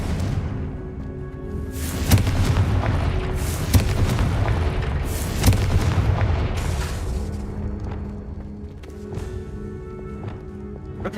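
Booming explosive blasts of the Confringo spell in Hogwarts Legacy, heavy rumbling impacts landing several times in succession, loud and close, over a continuous game soundscape.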